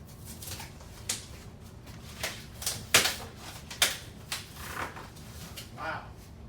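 A blade slices open a mailed cardboard box, giving a series of short sharp scraping and ripping strokes at irregular intervals, close and moderately loud, over a quiet room background.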